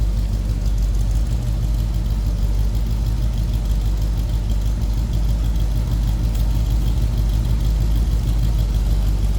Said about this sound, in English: It's a good sounding small block Chev.